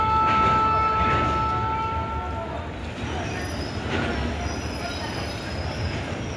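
A train at Rampurhat railway station in Birbhum, wheels squealing with high sustained tones over steady rolling rumble, loud and close, fading slightly.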